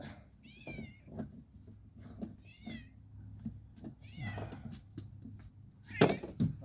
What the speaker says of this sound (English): She's meowing, wanting attention.